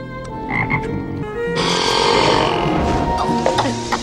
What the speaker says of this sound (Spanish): Lo mejor de esta rana es que es reactiva, y cada vez que te tomes una poción, eructará.